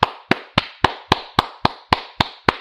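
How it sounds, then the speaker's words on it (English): Nine sharp, evenly spaced claps ring out alone at a slow, deliberate pace, one pair of hands clapping sarcastically with no other sound between the beats. "give you guys all a big round of applause"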